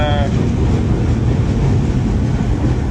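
A train rumbling past an old apartment block in Japan, a loud steady roar filling the whole stretch, with a brief squeal at the start.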